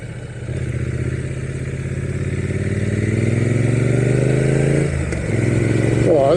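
A 900cc motorcycle engine revs and pulls under way, its pitch climbing steadily as it accelerates, loud and close with wind rush and a brief clatter near the end.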